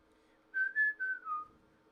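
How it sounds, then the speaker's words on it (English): Referee's final whistle in the football video game FIFA 19: a clear, fairly loud, quick run of four tones, a short burst pattern over a low steady game hum, with no talking. "There it is, the final whistle."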